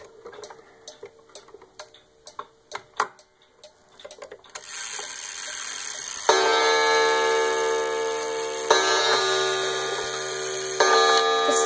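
A Statue of Liberty Centennial commemorative clock fitted with a baby rattle as its pendulum ticks in a steady, close rhythm, then a dense, loud metallic ringing swells in and sustains, rising again in bursts near the end.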